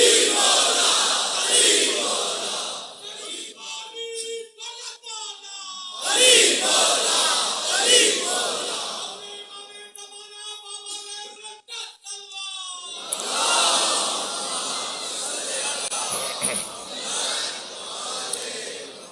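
At a religious gathering, a large crowd answers a speaker by shouting a slogan in unison, rising in loud roaring bursts between stretches of a single voice calling out.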